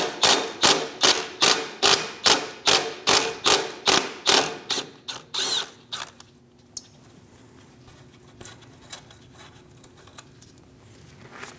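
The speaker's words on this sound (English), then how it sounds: "Using a 10mm socket, remove the bolt for the brake line bracket." Ratchet with a 10mm socket loosening a brake line bracket bolt on a 2001-2006 Chevrolet Silverado front suspension, a fast, even run of loud close clicks that slows and fades, followed by a few scattered metallic taps.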